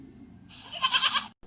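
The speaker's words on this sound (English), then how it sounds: "Goat bleats. Let's listen the sound of goat here." A single goat bleats once, loud and close, a wavering nasal cry of about one second that stands alone with no talk around it.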